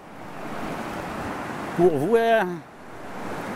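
Steady broadband rushing water from a turbulent stream near Whitaker Lake runs throughout, like a fast stream nearby, with a brief spoken phrase over it midway.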